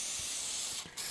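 A steady, close hiss of oil sprayed from a can onto an old Smith & Wesson Model 60 revolver left untouched for 50 years, with one brief dip before the spray resumes.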